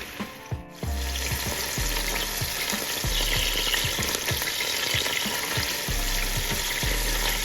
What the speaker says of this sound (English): So that means it's searing when you hear the sizzle